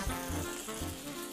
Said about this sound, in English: You hear that? That's the sound of gooey success and bacon.